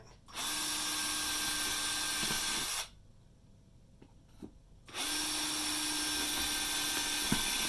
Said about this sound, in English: Probably should have done that before I started drilling.